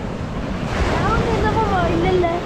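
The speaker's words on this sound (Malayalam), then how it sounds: "വലിയ തിരകൾ ഇപ്പൊ വരും." Sea waves surge onto Kollam beach with a continuous, full roar and wind buffeting the microphone. Faint higher tones drift above the surf.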